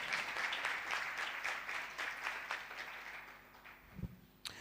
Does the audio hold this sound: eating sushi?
no